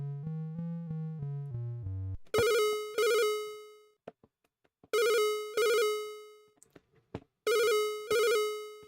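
A synthesized telephone ringing in a Commodore 64 game: a short descending chiptune jingle, then repeated pairs of loud, buzzy electronic rings separated by brief gaps, heard alone.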